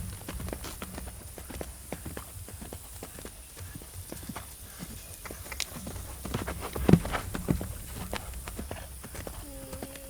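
A colt lopes around a round pen, its hooves thudding in a steady, fairly close rhythm on soft ground, with some quiet voice and handling noises in the background.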